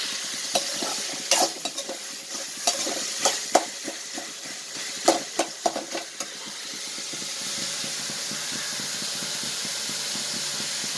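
Spices sizzle and fry in a pan for stingray fish theeyal, with scraping stirs and clinks of a spoon, steady hiss continuing after the stirring stops.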